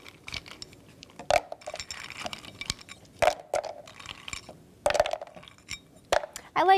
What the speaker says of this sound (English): then we'll put some ice cubes as well